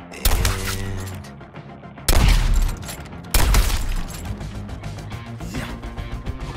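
Video game gunfire from Suicide Squad Kill the Justice League, bursts of shots layered over a dense in-game soundtrack and effects, with sharper loud blasts cutting in every second or so.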